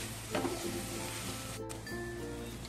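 Carrots and mixed vegetables stir-frying in a pan for momo filling, a steady close sizzle with brief scraping stirs, moderately quiet and without talk.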